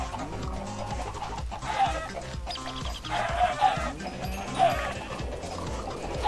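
Chickens cluck and squawk as they are killed in Minecraft with the Tekkit mod pack, repeated fowl calls over a dense, busy game soundscape at moderate level.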